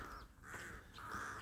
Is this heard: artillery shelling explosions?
no